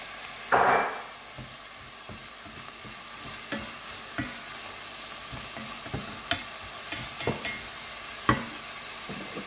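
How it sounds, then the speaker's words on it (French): Onions and garlic sautéing in a pan make a soft background sizzle, broken by several sharp scraping knocks of stirring, with one louder burst near the start and no voices. "Je vais revenir nos oignons."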